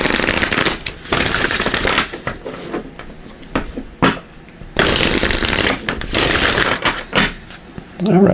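A tarot and oracle card deck being shuffled close up, loud riffling bursts of cards repeating in uneven rushes with short gaps between them, no voice heard over the handling.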